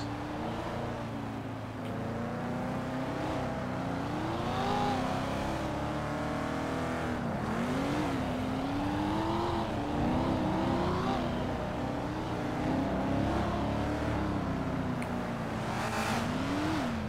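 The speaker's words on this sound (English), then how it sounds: "Hella cars just driving up in the hills." Several cars in the FiveM video game drive up into the hills, engines droning and revving steadily with shifting pitch, moderately loud and continuous without talk.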